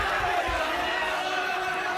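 Hostile wrestling crowd at a live show in Kuala Lumpur, Malaysia, a dense roar of shouting and jeering voices filling the hall, loud and continuous.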